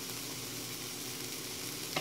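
Onions sizzle steadily in a frying pan, a dense, even crackling hiss that carries on without talk.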